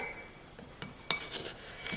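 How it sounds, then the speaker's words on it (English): Idli and dosa batter mixed by hand in one direction in a bowl, with soft wet rubbing and a few light clinks against the bowl, close and quiet. "going to give it a good mix like this, just in one direction"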